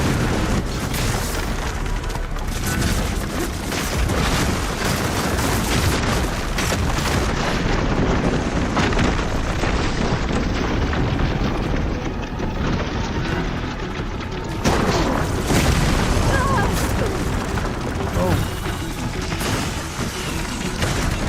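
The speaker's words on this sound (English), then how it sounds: "Hopefully the Gnoth will fire a few shots from that ballista." Ballista shots in the Horizon Forbidden West video game, heavy booming blasts and rumbling impacts in a dense battle mix that stays loud and continuous, with no clear gaps between shots.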